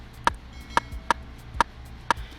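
Tight, sharp Afrobeats rimshot sample triggered in FL Studio 20, five crisp dry clicks evenly spaced about half a second apart, each short and bright over a faint low hum, with no voice.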